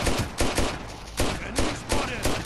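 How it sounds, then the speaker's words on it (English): Rapid gunfire in the zombie shooter Mega Zombie, a dense volley of close, loud shots in several bursts with short gaps between them, heard without talk. "I'm gonna shoot it this time"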